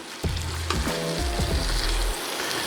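A lamb shank browns in hot oil for birria, giving a dense, steady sizzle with a few knocks and low thuds from the meat or pan near the start and middle.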